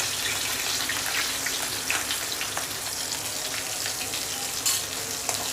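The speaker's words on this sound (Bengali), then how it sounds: "মাছের মাথাটাকে ভেজে নিতে হবে" A large fish head frying in oil gives a loud, dense crackling sizzle with bursts of popping spatter, close and continuous throughout, with no voices.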